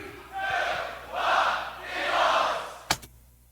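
At a Grand Beatbox Battle, the crowd shouts out a countdown in three loud, drawn-out swells, then a sharp hit lands and the hall drops to near quiet.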